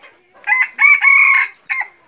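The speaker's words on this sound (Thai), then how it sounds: "นี่เป็น ไก่ผู้เมียนะครับ" A single rooster, a hen-feathered cock, crows close and loud in one drawn-out call, rising through a few stuttering syllables and ending with a short final note, with nothing else heard.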